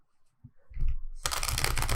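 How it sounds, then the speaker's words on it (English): A deck of tarot cards is riffle shuffled up close, a few soft taps giving way to a dense, rapid fluttering rush of cards, with no voices. "let's do a quick shuffle for Cancer"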